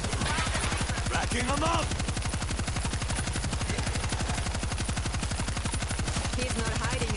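Mounted turret gunfire in the video game World War Z hammers out a continuous, rapid, evenly spaced stream of shots. A player's voice briefly speaks over it.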